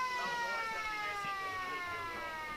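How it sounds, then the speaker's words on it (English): A long half-time siren sounds at an Australian rules football match, a steady multi-tone wail held loud and continuous across the whole moment, with faint crowd noise underneath. "Siren sounds for half-time."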